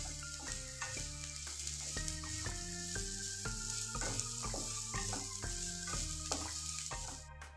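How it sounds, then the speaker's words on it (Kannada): Oats khichdi ingredients fry in oil in a pot, giving a continuous bright sizzle with occasional stirring, set under a melodic musical backing. "ಇದನ್ನು ಒಂದು 2 ನಿಮಿಷ ಎಣ್ಣೆಲೆ ಚೆನ್ನಾಗಿ ಫ್ರೈ ಮಾಡ್ಕೋಬೇಕು."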